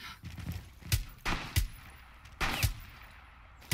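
Pistol gunfire in Rainbow Six Siege: a quick irregular string of about seven sharp shots, some in close pairs, fairly near and punchy, with no talking.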